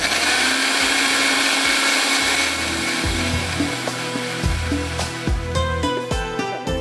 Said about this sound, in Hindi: हमने प्याज डाल दिया है ब्लेंडर के अंदर। इसको थोड़ा सा पीस लेते हैं